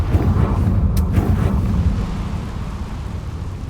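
A Confringo blasting spell in Hogwarts Legacy booms as a deep, loud rumbling burst that rolls and slowly decays over a few seconds, with no talk.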